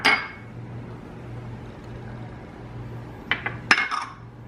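Dry ingredients for cherry chews being mixed in a bowl: a sharp clatter at the start, then a low hum, followed by a few bright clinks of a utensil against the bowl.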